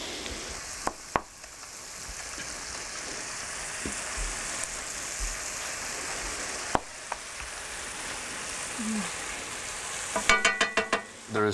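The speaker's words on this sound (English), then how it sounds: "And then we're just gonna mix everything." Ingredients with chunks of preserved lemon mixed together, a steady crackling, sizzle-like wet churn running close and even for several seconds, broken by a few sharp knocks and ending in a quick rattle of clatters.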